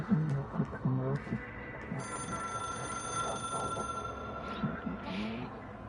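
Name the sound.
telephone ringing in video game Control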